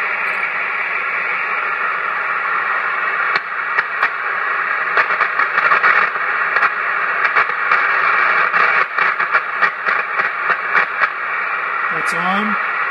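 Hammarlund HQ-170-A radio receiver with its noise blanker switched on, giving a steady broadband hiss with scattered crackling pulses; a brief rising tone near the end.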